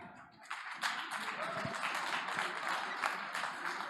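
Audience applause from a startup pitch event crowd, a steady wash of many hands clapping that swells after a quiet start and holds at moderate volume throughout.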